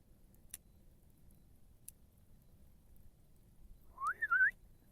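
A short rising and falling whistle to call a dog sounds near the end, following quiet stillness broken by a couple of faint ticks.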